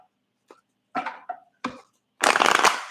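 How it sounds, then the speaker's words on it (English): A deck of playing cards is shuffled during a reading, with a few short riffles and taps followed by a longer, louder burst of cards cascading together, close and alone with no voices. "All right, so for Amy Joe, last shuffle."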